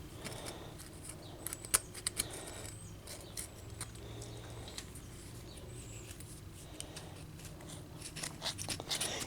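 Blade scraping and cutting through gasket material while making a small DIY gasket, producing soft, close, irregular scratchy strokes and faint ticks, no voices.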